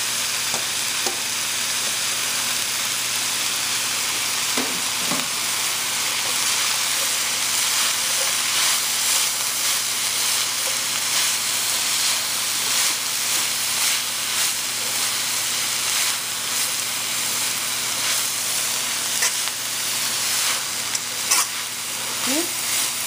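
Chillies, cabbage and carrot stir-fried in a hot pan, a loud continuous sizzle and hiss with occasional stirring scrapes and clacks, steady and close with no talk.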